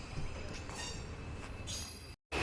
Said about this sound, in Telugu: సో ప్లాట్ఫామ్ నెంబర్ 6 మీదకి అయితే మన ట్రైన్ అయితే వచ్చింది